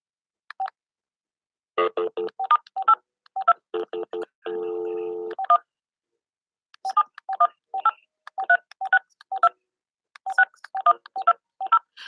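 Touch-tone keypad on a house phone dialing a PIN: bursts of rapid DTMF beeps, a longer steady tone in the middle, then more quick clustered beeps, close and clear with no talking.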